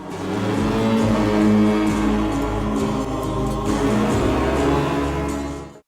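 Mellotron from a 1970 track, a dense, sustained, slow-moving bed of tones that stays loud and steady throughout before cutting off at the end.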